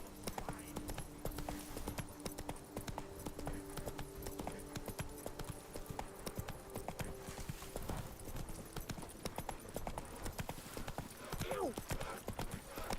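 Roach, the horse from the game Witcher 3, gallops with rapid, rhythmic hoof clip-clops. A faint whinny comes near the end, and a person talks over the hoofbeats.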